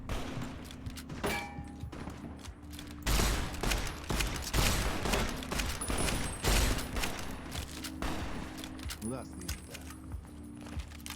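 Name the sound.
gunfire in the video game Fallout New Vegas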